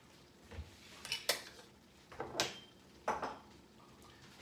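A pot of boiling eggs is lidded and shifted off the stove, a few separate metallic clanks and scrapes of lid and pot against the burner, close and alone.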